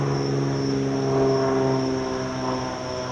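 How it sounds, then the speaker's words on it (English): A small propeller plane drones steadily overhead, its engine a continuous buzzing hum that swells slightly and then eases, with no voices. "Just a little small airplane going overhead."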